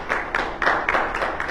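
Congregation in a church service clapping together in a steady rhythmic beat, several evenly spaced bursts of hand claps filling the room at moderate volume.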